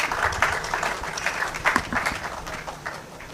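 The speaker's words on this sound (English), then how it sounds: "Please, let's clap for her as she comes" Applause at a technical consultative workshop as the chairperson is invited forward; a short burst of moderate, mixed clapping from an audience, fairly close, with no clear talk.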